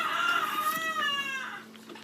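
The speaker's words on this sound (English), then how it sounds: "How respectful is it to have a rooster crowing?" A rooster crows in one long, rising and falling call, moderately close, with faint background noise underneath.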